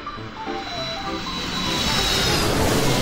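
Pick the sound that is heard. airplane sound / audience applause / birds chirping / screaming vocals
airplane sound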